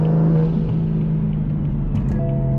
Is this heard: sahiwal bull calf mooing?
no